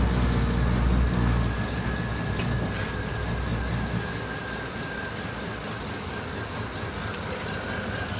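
A Holden Kingswood engine runs with the choke still on, giving a steady low rumble and hum that is louder at first, then settles into an even drone with no one talking.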